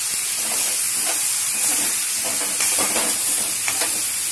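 Brinjals frying in a hot pan for a brinjal and lobia curry, a loud continuous hiss and sizzle with faint stirring scrapes, close and steady throughout.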